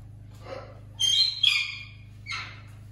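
Pet budgerigars indoors give a few short bursts of chirping and squawking over the steady low hum of a running generator.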